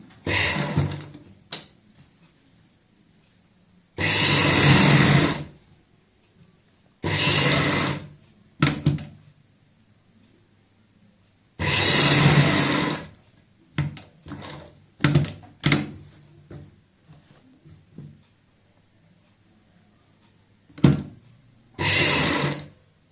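A sewing machine stitches along a kurti neckline from the right side, through fabric folded and pressed, running in several short separate bursts with quiet pauses between them and no talk.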